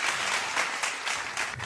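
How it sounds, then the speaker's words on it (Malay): Crowd at a Malaysian DJ birthday party applauds warmly, continuous clapping with a few sharper claps rising near the end. "Ramainya orang tepuk."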